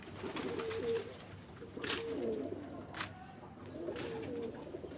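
A returned homing pigeon coos outdoors in a few soft, repeated low phrases, fairly close, over steady background noise, with no talking.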